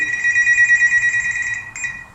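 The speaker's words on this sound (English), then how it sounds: "Today, you see your phone ring." A phone rings with a loud, steady electronic trill that holds for about two seconds, pauses briefly, then starts again, alone with no talking.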